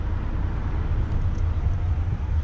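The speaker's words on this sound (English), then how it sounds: "I don't know if you can hear me over the bus and the amount of traffic here" A bus and heavy road traffic pass by in a steady, loud low rumble that continues without a break, with no talking.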